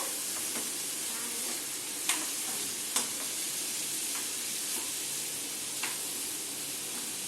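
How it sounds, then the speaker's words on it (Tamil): Potatoes sizzle steadily in a pan over a slow flame, a continuous moderate frying hiss broken by a few sharp scrapes and stirs of a spatula. "10 மினிட்ஸ்க்கு ஸ்லோ ஃப்ளேம்ல வச்சு வதக்கிக்கலாம்."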